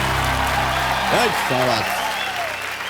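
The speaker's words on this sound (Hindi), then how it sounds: "तालियां थोड़ा जोर से बज जाए तो अच्छा लगेगा।" A studio audience on the Hindi quiz show KBC claps steadily throughout. A voice and tonal sounds ride over the continuous applause.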